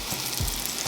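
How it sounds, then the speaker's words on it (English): Quartered mushrooms sear and fry in a hot pan, giving a brief burst of close, steady sizzling with a soft thud of stirring partway through. "I'm just going to start off with the quartered mushrooms, and we're just going to sear them and fry them up on each side"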